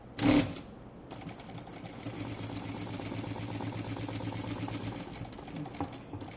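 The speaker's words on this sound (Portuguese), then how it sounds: "a gente vai iniciar a costura" A sewing machine runs in a steady, rapid hum while stitching a tailored double-welt pocket, close and continuous after a brief bump at the start, with no talking.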